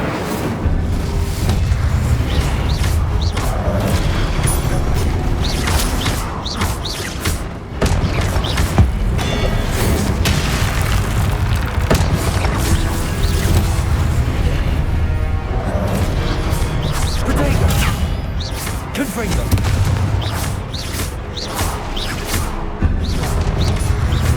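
Incendio fire spells cast repeatedly in Hogwarts Legacy gameplay, a dense, loud run of booming bursts and crackling impacts with steady action noise throughout.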